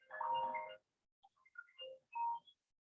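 A phone gives short electronic chimes and melodic tone bursts, a rising jingle then scattered beeps, heard clearly with no talk over them.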